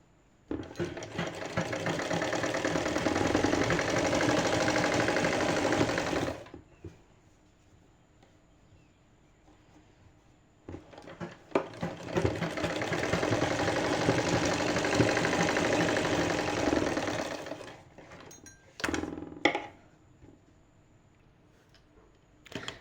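An electric sewing machine stitches lace onto a garment sleeve in two long bursts of steady rapid whirring, separated by a quiet pause, followed by a few short clicks near the end.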